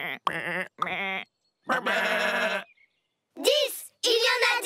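Cartoon sheep bleat in several separate calls, some wavering and nasal, others rising sharply, close and clear with silent gaps between.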